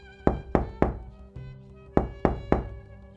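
A plastic chair shifts on an uneven wooden floor, its legs knocking in six sharp, hollow thunks, three quick ones, a softer one, then three more, each ringing briefly in a quiet room.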